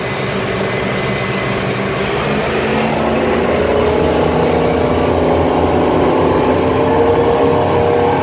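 A 2010 Monterey 318 SC motorboat runs at wide open throttle, its engine a loud, constant, close roar with a deep low drone and a faint rise in pitch over the whole stretch.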